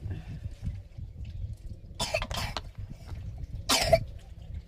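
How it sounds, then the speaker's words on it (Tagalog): Two short coughs stand out against a low background rumble, the first a double cough, the second a single sharp one a moment later. "Yan, inuubo na."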